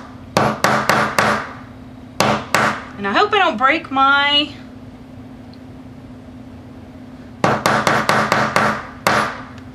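Sharp, loud hammer blows on a craft hammer punching a hole through a fabric quilted art journal, in two quick bursts of strikes with a pause between, and a person talks briefly in the middle.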